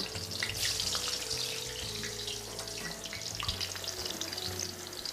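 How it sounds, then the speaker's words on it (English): Food frying in hot oil in a pan while preparing an elegant Turkish-style dinner, giving a loud, steady, close crackling sizzle that runs without a break. "we're going to fry both sides until they're nice and brown"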